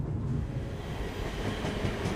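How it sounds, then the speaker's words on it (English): Rail carriage rumbling steadily underfoot at close range, a continuous low, even roar of wheels on track as the train begins to slow, with no voices over it. "the change in speed of the train as you have to readjust your footing a little bit as the train begins to slow"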